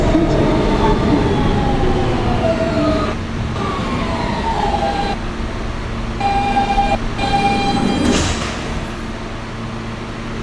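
A Kawasaki R160B-2 Siemens R local subway train runs through New York tunnels toward Bay Ridge, with a loud continuous rumble of wheels on rails, rising and falling motor whines, and brief gaps as the noise shifts.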